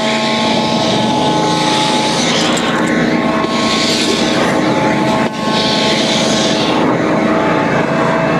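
A pressure washer runs inside an enclosed trailer unit, a loud, steady roar of motor and spray that continues throughout with only slight shifts in tone.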